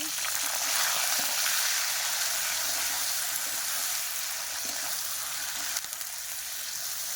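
Oil, onion and eggplant sizzle in a pan with a loud, continuous hiss of frying held up close for several seconds, steady throughout with no talking.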